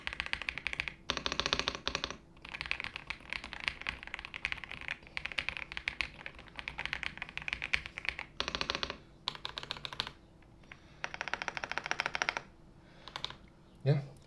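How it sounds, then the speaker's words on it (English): Mechanical keys pressed on a Womier K80 keyboard, close-up clacky typing in bursts of rapid keystrokes separated by short pauses, crisp and fairly quiet. "I'm gonna go as close as I can with the camera to the keycaps, and I'm gonna press some so you guys can hear basically how it sounds like."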